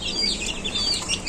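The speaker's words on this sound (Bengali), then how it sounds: "দেশি মুরগির বাচ্চা, 10টা বাচ্চা আছে।" Native Bangladeshi hens with a brood of ten chicks on a farm, giving a steady close mix of soft clucks and high peeping chirps throughout, with no talking.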